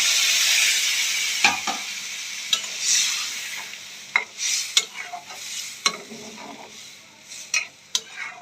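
Pointed gourd and prawn curry masala sizzles loudly in a pan as water is added, a bright hiss that fades while a spoon scrapes and taps the pan several times, close up and without speech.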